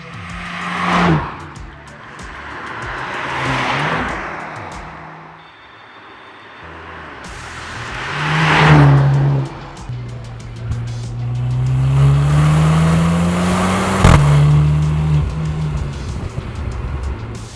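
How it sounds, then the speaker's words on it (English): A Mercedes-AMG C 43 four-cylinder turbo engine revs hard several times, pitch climbing and dropping between bursts, loud and close with no talking. "this has got to be one of the best, angriest sounding 4-cylinders around."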